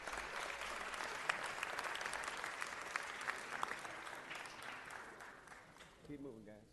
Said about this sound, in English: Give Marquise a round of applause.